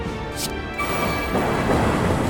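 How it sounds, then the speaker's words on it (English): A storm lightning effect from the card game Slay the Spire rumbles like thunder, with a crackling burst near the start that swells into a steady, loud roar lasting a couple of seconds. "gives us a storm, which makes it so we channel even more lightning"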